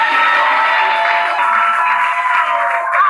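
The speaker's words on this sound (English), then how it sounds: "a round of applause for me, Zoe." A studio audience claps and cheers in a dense, loud burst of applause that carries steadily through the whole moment.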